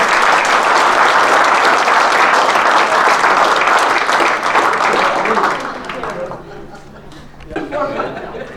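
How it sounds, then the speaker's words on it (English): Audience applause at a banquet, loud and sustained with scattered chuckles, then thinning out after about five seconds as chatter and a few voices take over near the end. "let's give them a round of applause"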